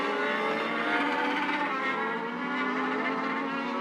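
Race cars at Charlotte Motor Speedway drone past in a continuous roar, distant and steady, with a commentator's voice over the top.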